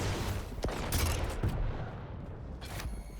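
Railgun shots crack out in a fast video game duel, with sharp bursts of gunfire and explosive hits layered over constant dense game noise with no pauses.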